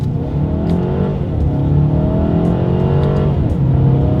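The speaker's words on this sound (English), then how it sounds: "let's test out the paddle shifters here. All right, we are in manual shift mode in first gear, and here we go" A Mercedes-Benz A 220 in manual shift mode accelerates from first gear using paddle shifters, the engine note climbing loudly in rising sweeps with quick dips at each upshift, heard from inside the cabin.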